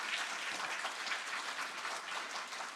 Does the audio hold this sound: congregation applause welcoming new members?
yes